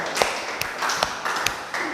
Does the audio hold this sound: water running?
no